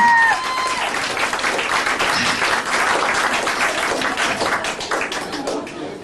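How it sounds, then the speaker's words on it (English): A room full of people at a comedy stage hypnosis show clapping loudly and continuously, a dense even patter of applause that fades slightly toward the end. "Round of applause in order there"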